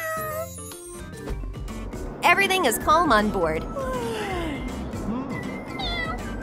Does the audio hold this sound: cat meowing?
yes